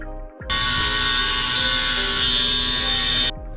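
Steady high-pitched whine of a cutting tool slicing triangular sections off a Nissan 350Z brake dust shield, starting abruptly, running continuously for about three seconds, then stopping.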